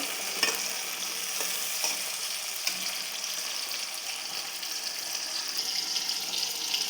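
Potatoes, fenugreek and spinach stir-fry in a pan with a steady, hissing sizzle, broken by occasional soft scrapes of stirring and no voices.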